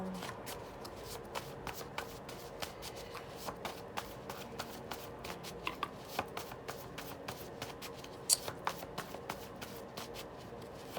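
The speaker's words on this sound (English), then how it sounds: "So I shuffle a long time usually." Tarot cards shuffled at length close by, a steady stream of soft papery riffles and light taps with occasional sharper snaps, continuous and even throughout with no voice.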